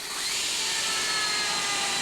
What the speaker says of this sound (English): So now we're going to drill a niche in the skull to fit the implant.